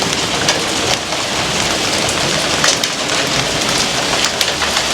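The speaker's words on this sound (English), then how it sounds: "it's pure stone ice dropping" Rain mixed with falling hailstones of pure ice gives a loud, dense, continuous hiss broken by scattered sharp impacts and patters on nearby surfaces.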